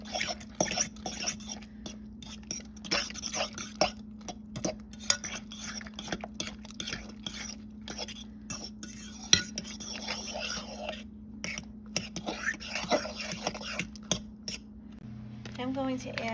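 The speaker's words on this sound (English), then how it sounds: "I'm going to stir everything together." A spoon repeatedly scrapes and clinks against a bowl while stirring a meatloaf mixture with tomato basil sauce. The irregular taps ride over a low steady hum, close and moderately loud.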